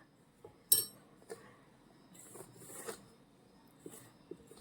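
A metal spoon mixes hot oil into a spiced wheat-flour puri dough mixture in a bowl, giving a few sharp clinks against the rim and soft scraping stirs between them, close and quiet.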